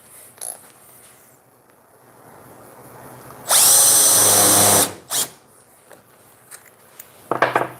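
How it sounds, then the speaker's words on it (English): A power drill drives a screw into wood during a woodworking build. One loud whirring burst of about a second and a half stands alone, with brief quieter clicks and handling knocks before and after. "Get this last screw into this side."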